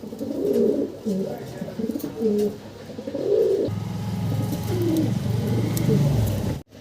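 A pair of Danish pigeons coos in repeated low, throaty rolls that continue steadily and close by, with a brief drop to near silence at the very end.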